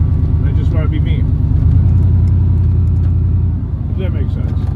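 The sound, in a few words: truck driving on the street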